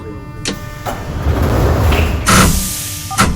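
Metro train doors in a Kyiv metro video game, line M2 near Obolon station, sliding shut with a few sharp clunks and a hiss over a steady low carriage rumble.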